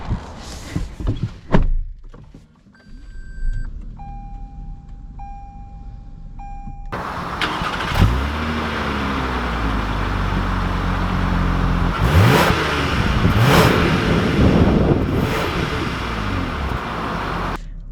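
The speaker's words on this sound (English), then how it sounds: "let's take this ES 350 out and see how it drives" A 2020 Lexus ES 350 F Sport with door thunks and chimes, then the engine starts and settles into a steady idle before pulling away, with rising engine and road noise growing louder as it drives.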